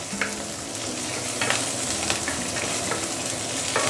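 Prawn shells fry over medium-high heat in a pan, a steady close sizzle broken by several sharp scraping strokes from stirring spread across the few seconds.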